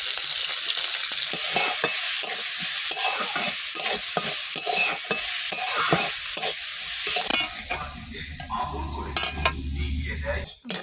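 Broccoli from a home garden is stir-fried in a pan, with a spatula scraping in steady, close rhythmic strokes over constant sizzling, then the stirring stops and the frying continues alone with a low hum underneath.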